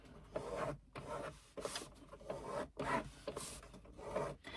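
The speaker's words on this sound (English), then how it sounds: "finger press that seam" Fingertips press and rub along a fabric seam on a carry-all tote, making a series of close, dry rasping strokes, about five, with short pauses between them.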